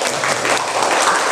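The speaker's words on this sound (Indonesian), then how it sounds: "Tepuk tangan." Classroom children clap their hands together in a lively, steady burst that fills the short moment, a dense patter of many small palms with no talk over it.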